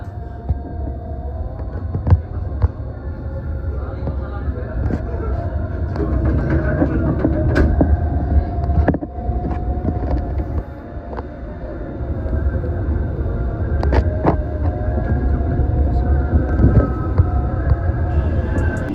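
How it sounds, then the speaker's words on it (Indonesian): A Commuter Line Supas train pulls away from Probolinggo station, heard from inside as a low rumbling hum with repeated sharp clicks and clanks of the wheels over rail joints, growing slightly louder as it gathers speed. "baru aja kereta api komuter lain Supas yang aku naiki berangkat dari stasiun Probolinggo"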